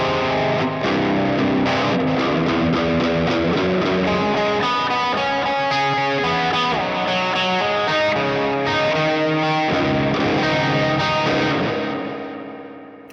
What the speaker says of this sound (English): it's just a bit bloomy and full of reverb and delay, but it's also slightly overdriven